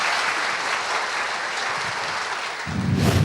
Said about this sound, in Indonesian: Kita berikan sekali lagi aplaus